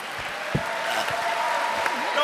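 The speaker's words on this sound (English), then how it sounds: "Don't applaud that." A burst of studio audience applause on a comedy podcast, a brief steady patter of clapping with voices talking over it.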